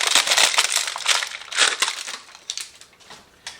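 Plastic packaging around bike pedals is cut and torn open nearby, with loud crackling and crinkling in bursts that thin out toward the end.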